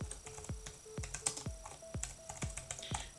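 Typing on an unfamiliar computer keyboard, quiet close key presses in an uneven rhythm of single clicks and short bursts, with a faint steady tone in the background.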